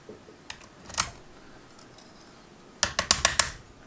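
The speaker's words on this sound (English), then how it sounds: "as I hit the bump key, you want to see those spring pins lift into the pin chamber" Bump key struck into a pin tumbler lock clamped in a vise: a few faint clicks, then a quick burst of five or six sharp metallic taps close by, with no talk.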